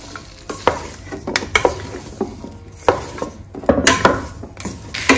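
Barbecue vegetables with lemon being stirred in a hot pan: a steady sizzle under repeated scraping and clacking strokes of a spoon against the pan, close and fairly loud.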